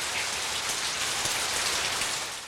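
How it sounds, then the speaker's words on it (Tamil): Heavy rain pouring down over farmland with banana trees, a dense, steady, loud hiss of drops on surfaces that fills the whole clip with no break and no voices. "ஆடுகளை ஓட்டிக்கிட்டு போலான்னு வந்தா இம்புட்டு மழை பெய்யுதே."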